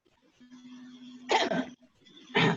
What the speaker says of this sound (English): so if someone would cough when it's my card.